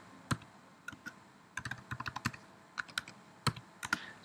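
Password typed on a computer keyboard at a Linux command line: irregular, close, soft key clicks in short bursts, then a firmer press at the end.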